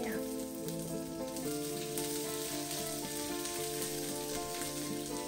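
Chopped onion and garlic frying in a pan, a continuous even sizzle and crackle, close and steady throughout with no talking.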